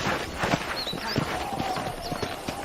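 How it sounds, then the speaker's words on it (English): Horse hooves clip-clop at a steady walking rhythm in the Red Dead Redemption video game, on a ranch, with faint ambient birdsong and a soft undertone beneath the repeated hoof strikes. "let's see if you can still ride a horse"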